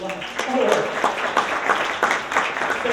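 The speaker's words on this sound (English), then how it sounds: "Let's give them all a round of applause." A crowd at a home staging summit in Dallas, Texas claps in a brief burst of applause, a few seconds of dense, uneven hand claps at moderate distance.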